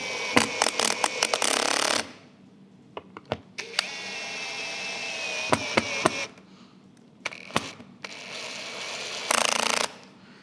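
Cordless drill with an adjustable clutch driving screws into pre-drilled holes while a TOTO WASHLET+ bidet seat is fitted to a Nexus S7 toilet, in several short whirring bursts separated by quiet gaps and small clicks.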